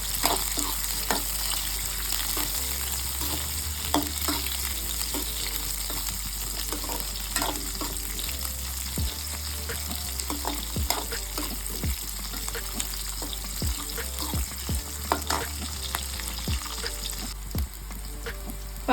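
Whole spices including cloves fry in a pan for a Karnataka-style sprouts saaru, a steady close sizzle with scattered stirring scrapes and small crackles throughout, no voices.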